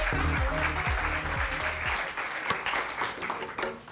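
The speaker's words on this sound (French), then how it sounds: "Nous les applaudissons, bien sûr." Audience applause at a corporate presentation event welcoming guests, a dense burst of clapping that thins out and fades over a few seconds.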